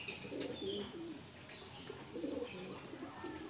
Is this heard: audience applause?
no